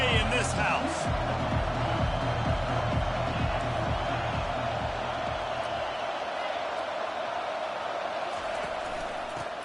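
Stadium crowd roar in a college football video game, a steady dense wash with rhythmic thumping chants early on, running under a commentator's voice throughout.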